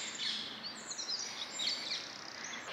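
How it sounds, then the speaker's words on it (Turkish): Birds chirp and trill steadily in a quiet forest in Brussels, Belgium, high bright calls overlapping at a moderate distance, with no one talking. "Yalnız orman gerçekten güzel ve kuş seslerini duyuyor musunuz?"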